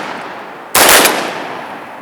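A loud, close shotgun blast fired while duck hunting in a beaver swamp, one sharp report with a short echoing tail over steady outdoor background noise.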